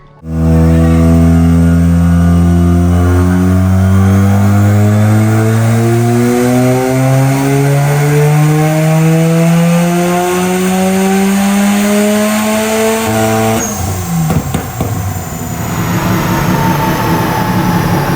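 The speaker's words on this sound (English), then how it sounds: "Almost sounded like a rev limiter." A loud rebuilt Mazda RX-7 rotary engine revs up steadily in rising harmonic sweeps, holding near the top against the rev limiter before cutting out abruptly, then clattering and idling back.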